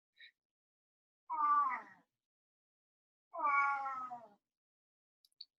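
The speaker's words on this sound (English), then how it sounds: "Sorry, excuse my cat." A house cat meows twice, each a clear drawn-out call about two seconds apart, close and distinct against near silence with a faint click at the end.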